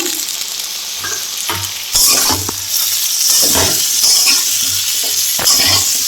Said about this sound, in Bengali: এবার সেদ্ধ করা ওলটা দিয়ে দিলাম। এবার একটু ভেজে নেব। এবার লঙ্কা তেজপাতাটা দিয়ে দিলাম।